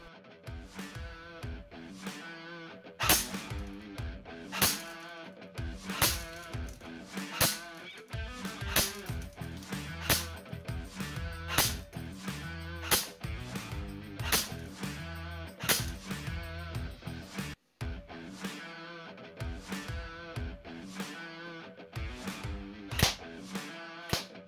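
A Begadi Sport AK RAS S-AEG airsoft rifle fires 0.25 g BBs in rapid bursts and single shots, sharp snapping cracks repeating in dense irregular volleys for a long stretch, close and loud with no talking.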